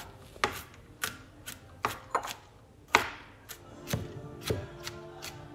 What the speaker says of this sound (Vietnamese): Tỏi phải băm cho kỹ nha các bạn.